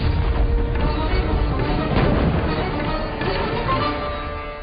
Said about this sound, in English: Bullets flew and cannons roared to usher in the reign of the Mughals.